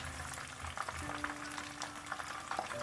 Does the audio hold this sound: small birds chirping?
no